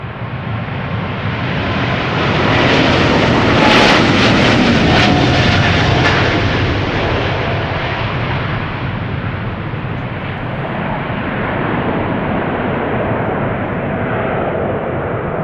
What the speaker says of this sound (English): Growling 777-200ER KLM flight 861 going to Tokyo Narita